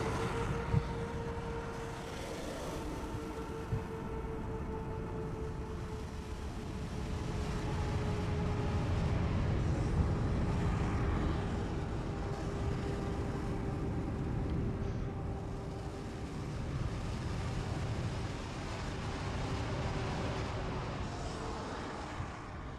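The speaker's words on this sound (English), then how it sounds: "the American Airlines A321, A321neo, coming from Charlotte" An American Airlines A321neo landing in Microsoft Flight Simulator 2024, a low steady engine rumble with faint sustained tones, fairly quiet and continuous, swelling slightly midway before easing off.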